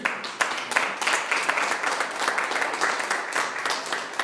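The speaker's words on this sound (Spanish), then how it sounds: "Denle un aplauso al Señor." A church congregation applauding during a sermon: dense, continuous clapping from many hands, fairly loud and sustained throughout, with no voices over it.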